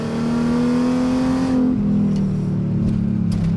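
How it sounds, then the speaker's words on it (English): Mercedes SLK32 engine with upgraded intake manifold accelerating hard, a loud rising engine roar that drops off abruptly midway, then a lower steady drone. "that just made me wheel hop worse than I have ever done before"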